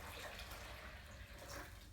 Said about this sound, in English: So then I'm going to take that salt water, pour it into my big bowl